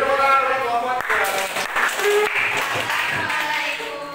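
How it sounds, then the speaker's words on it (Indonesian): An audience applauds a presenting student group in a classroom, a burst of dense clapping with overlapping voices and chatter mixed in, fairly close and moderately loud across the whole stretch. "Beri tepuk tangan untuk kelompok 3."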